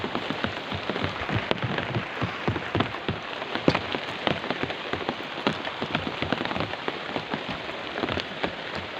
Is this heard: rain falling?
yes